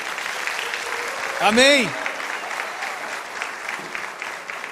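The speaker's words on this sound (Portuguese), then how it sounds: "Vamos dar um forte aplauso." Worshippers at a Sunday morning church service give strong, continuous applause, a dense clatter of many hands, while a single voice briefly calls out over it.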